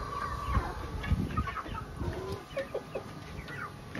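Ornamental chickens cluck in a series of short, irregular calls at close to moderate distance, with soft rustling and farmyard background between them.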